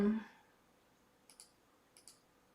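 Two quick pairs of computer mouse clicks, faint and close in a quiet room, after a brief trailing bit of voice at the start.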